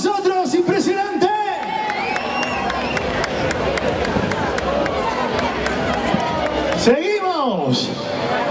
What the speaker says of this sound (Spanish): Aplauso para vosotros, impresionante.